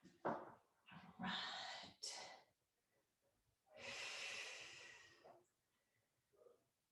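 Slow, deep breaths during a Pilates mat stretch, close and airy, with several short breaths followed by one long exhale and quiet pauses between.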